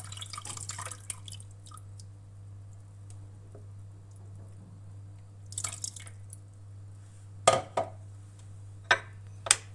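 Water rinses out a pot that held lemon and orange juice in a quiet kitchen, giving scattered soft drips and a few sharper splashes and ticks against a steady low background hum.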